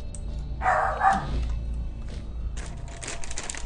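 A dog barks in Alice: Madness Returns, a short burst of two or three gruff barks close by, standing out over a low steady game ambience before higher hissing noise takes over.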